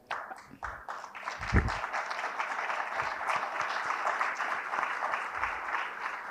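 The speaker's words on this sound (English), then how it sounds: "please give them a round of applause as well" Steady applause from an audience fills the room, building quickly and holding at an even level for several seconds.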